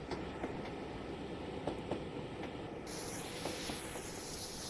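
A steam train in Train Simulator 2021 on the North Somerset Railway rolls along, heard from the rear as a steady low rumble with faint rail clicks, then a sharp hiss of steam joins partway through.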